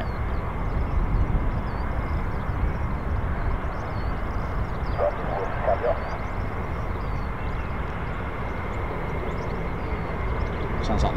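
Steady, distant roar of US Air Force 48th Fighter Wing military jets taxiing at RAF Lakenheath, a sustained broadband rumble with little change in level.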